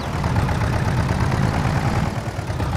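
A tractor in Farming Simulator 22 hauls a loaded trailer, its engine droning steadily and loudly at low pitch throughout with a constant rumbling throb and no pauses.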